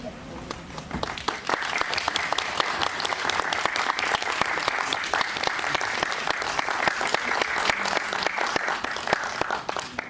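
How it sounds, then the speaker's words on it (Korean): A cinema audience at CGV Yongsan I'Park Mall greets the director and actors of the film 'Nobody's Around' with big applause, a loud, dense, continuous wash of clapping that swells and holds for about ten seconds. "오시면 큰 박수로 맞아주세요"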